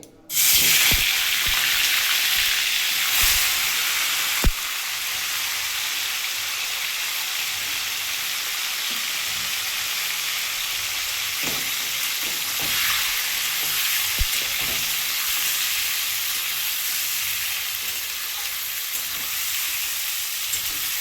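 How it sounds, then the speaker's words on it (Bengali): Loud, steady sizzling of chicken frying in hot oil fills the whole stretch, with occasional pops and crackles and no voices. "তেলটা আমার গরম হয়ে গেছে আমি এবার এতে মাংসগুলো একটু দিয়ে ভেজে নেবো হালকা করে"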